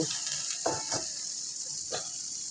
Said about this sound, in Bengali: এই যে কাঁচামরিচ বাটা দিয়ে দিচ্ছি